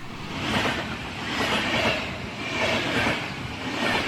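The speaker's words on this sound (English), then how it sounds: "The train stops here." A train rumbles past with a steady rolling roar that swells and eases in waves, rails clattering faintly beneath, heard alone without voices.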